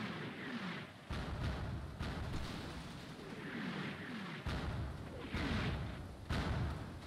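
Artillery fire in Combat Mission: Red Thunder, a series of deep thuds and booms spaced a second or two apart, moderately loud over a rumbling battlefield background.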